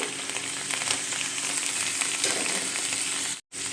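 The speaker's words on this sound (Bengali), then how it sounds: "এটা একটু ভালো করে ভেজে নেব।" Ground cumin, coriander and turmeric frying in a pan, giving a loud, continuous crackling sizzle with faint stirring, which cuts off abruptly near the end.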